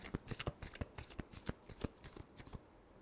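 Tarot cards being shuffled up close, quiet rapid riffling flutters and soft slaps in an irregular burst pattern, with no talking.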